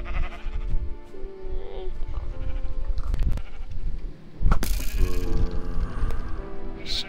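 Repeated synthetic sheep bleats from Minecraft over game music, several overlapping cries with a sharp burst of noise midway.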